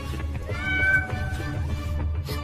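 A cat meows over a steady low rumble, one drawn-out rising call near the middle with softer mews around it, fairly close and with no talking.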